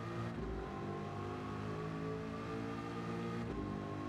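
Race car engine in Gran Turismo 7 pulling hard back on the power after a corner, a steady loud droning roar with rising harmonics under a continuous dense mechanical rumble, no talking.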